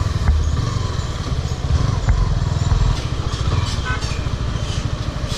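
Suzuki Gixxer SF 250 motorcycle with a 250cc engine runs steadily up close, a loud continuous throbbing rumble with fine rhythmic pulsing and no talk over it.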